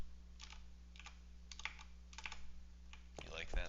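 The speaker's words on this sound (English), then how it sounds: "I tap my keyboard." Computer keyboard tapped in quick clusters of light clicks over a steady low hum, close and quiet, with a voice beginning to speak at the end.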